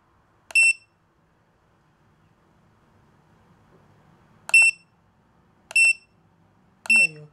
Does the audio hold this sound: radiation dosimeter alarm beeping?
yes